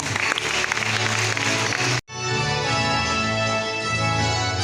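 A crowd applauds choir members at a Pueri Cantores promise ceremony, with sustained clapping and a brief cut midway before the applause resumes, steady and reverberant.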